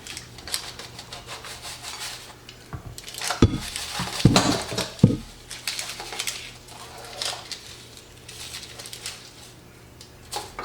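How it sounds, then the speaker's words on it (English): Baked cod being lifted out of a baking pan, with scattered metallic clinks and scrapes of a utensil against the pan, a few louder knocks in the middle, close by and without speech. "Here comes the fun part, trying to lift it from the pan."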